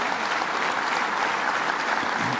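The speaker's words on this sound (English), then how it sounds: "Give him a big round of applause," Audience applause for Senator Hugh Farley at an economic development event at Schenectady Community College, a thick, even roar of many hands clapping without pause.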